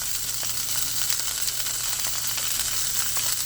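Steady, moderate sizzle and hiss of sausage and onions frying in a pan on the stove, continuous with faint crackles.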